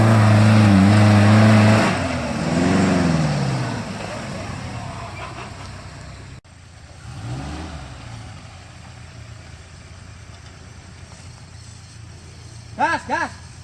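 Offroad car engine on a forest trail in Semarang, Indonesia, revving loudly up close in long rising and falling surges, then fading to a distant rumble, with brief voices near the end.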